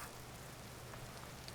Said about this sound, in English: And yes, it is raining again, in case you missed that.